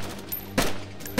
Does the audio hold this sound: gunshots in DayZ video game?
yes